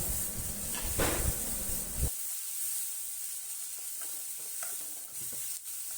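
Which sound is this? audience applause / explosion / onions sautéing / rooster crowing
onions sautéing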